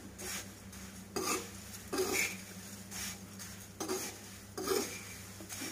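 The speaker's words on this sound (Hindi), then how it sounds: "फिर उसमें पोहा इसको थोड़ा हम फ्राई करेंगे लिया है मैंने मैं फ्राई कर रही हूँ" A spoon stirring and scraping poha (flattened rice) with turmeric in a frying pan over medium to high flame, making quiet rhythmic scrapes and light clinks every second or so over a steady low hum, with no voices.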